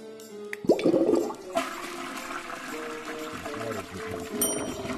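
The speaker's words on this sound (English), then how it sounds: "Flush the toilet." A toilet flushes in the VR game TaskMaster VR, a loud whoosh followed by water swirling and trickling for several seconds, close by.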